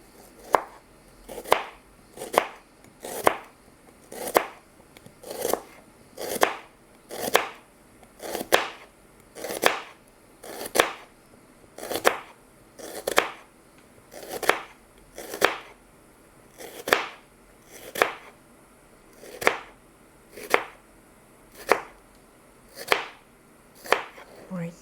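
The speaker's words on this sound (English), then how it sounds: "I do recommend to chop them as finely as your hands allow you today" A knife finely chops a small onion on a board in steady, evenly spaced strokes, about one every second, close and crisp, carrying on throughout without speech.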